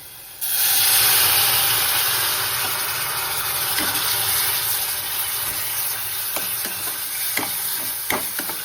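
Water hits a hot pan of mango jam for mango sheera with a sudden loud hiss that settles into a steady sizzle and bubbling, with occasional stirring clicks.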